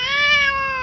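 A house cat gives one loud, close, drawn-out meow, clear and harmonic, about a second long with no other sound around it.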